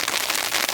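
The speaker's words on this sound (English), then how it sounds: "It's not really snow, it's more like hail. That loud ticking sound hitting off the tar." Hail pelting tarmac at a windy campsite in a snow and rain storm, a dense, steady patter of sharp ice ticks, close and loud with no pauses.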